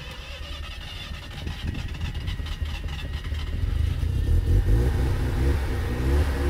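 A car engine cranks, catches and revs up, with the rough mechanical rumble growing louder and steadier toward the end. The car has been running low on gas.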